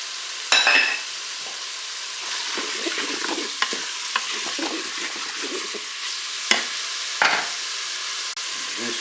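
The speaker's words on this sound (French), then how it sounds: "Le beurre est fondu, je vais mettre mes morceaux de bœuf. Je vais ajouter mes oignons." Beef pieces and onions fry in melted butter in a Cookeo cooker, giving a steady close crackling sizzle. A few sharp knocks of a utensil against the pot stand out, with occasional stirring.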